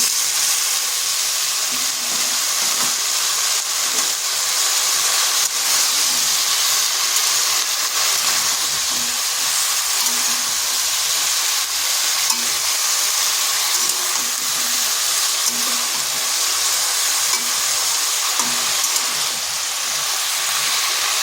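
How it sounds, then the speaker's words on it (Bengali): Pumpkin greens and stalks go into a pan of frying potatoes, raising a loud, steady sizzle and hiss that holds evenly throughout with no voices. "এরপর দিয়ে দিচ্ছি কুমড়ো শাক আর ডাঁটাগুলো।"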